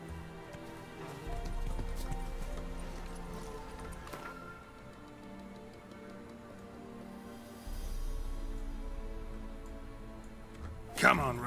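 Roach, a horse in a video game, gallops with a steady clip-clop of hooves that drops out and returns, heard under talk with a brief louder burst near the end.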